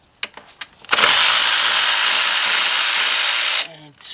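A power tool on a Ford EcoSport, Fiesta or Focus removes 10mm alternator bolts: a few light clicks come first, then a loud, close whirring burst lasts about two and a half seconds before stopping abruptly.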